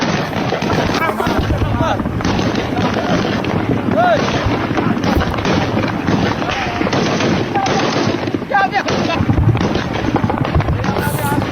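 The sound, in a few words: gunfire in Sanaa, Yemen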